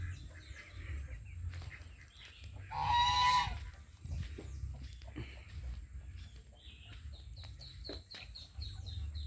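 A rooster crows once in a loud burst among backyard fowl, with steady low rumble and scattered soft bird calls and clucks around it before and after.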